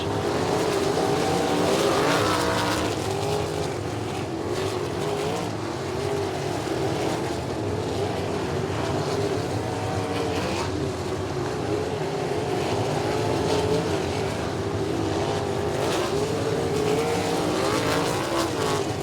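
Sprint cars race at Lincoln Park Speedway during a 2020 feature event, their engines giving a continuous loud roar that rises and falls slightly as the cars run down the backstretch.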